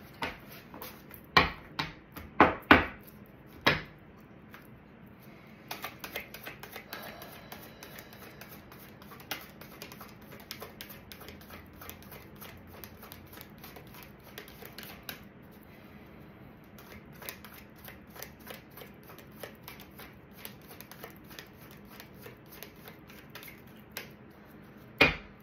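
Tarot cards being shuffled by hand, with a few sharp snaps at the start followed by a long run of rapid, soft riffling clicks, close and alone without speech.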